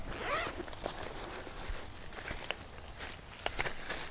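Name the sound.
zipper of a telescope carry bag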